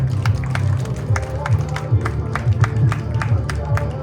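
Audience applause at a motivational school event in Malaysia, steady dense clapping from a crowd across the whole stretch, fairly loud and close with no break.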